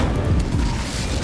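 A single deep, muffled boom bursts from a fire spell in Hogwarts Legacy, loud and brief, then fades into a low rumble.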